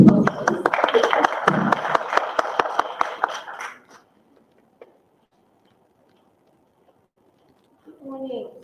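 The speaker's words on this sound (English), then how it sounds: "Let's give her a warm applause." Audience applause welcoming someone speaker at a community dialogue event, a dense burst of many hands clapping for about four seconds, then fading into near silence with faint room noise.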